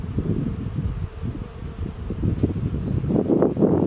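Honeybees buzzing at the entrance of a backyard hive in Colorado, a steady, close, low hum over faint outdoor wind that swells slightly toward the end.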